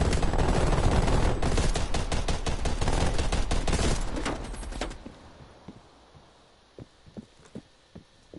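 A video game turret machine gun fires a long, loud sustained burst of rapid rounds for about five seconds, then cuts off, leaving a quieter scene with scattered sharp taps and clicks.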